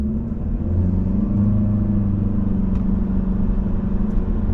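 A 2025 Chevrolet Malibu LT engine rumbles and rises in pitch as the car pulls away from a stop and gathers speed, heard from inside at a steady, fairly loud level.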